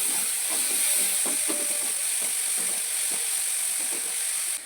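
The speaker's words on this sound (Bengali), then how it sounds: "পেঁয়াজটা তো আমি ভেজে নিয়েছি" Onion fries in oil with a continuous bright hiss and faint crackles, steady and close, easing off at the very end.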